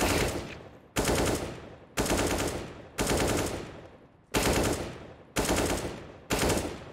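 Gunfire in the video game CSGO, seven sharp, loud shots or short bursts spaced about a second apart, each decaying with a ringing tail, no talking.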